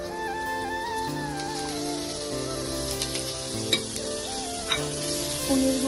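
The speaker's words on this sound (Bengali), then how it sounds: "পনিরগুলো হালকা করে টস করে নেব ঘিয়ের মধ্যে" Paneer cubes are tossed and fried in ghee in a frying pan, with a steady sizzle, occasional stirring clinks against the pan, and soft background music.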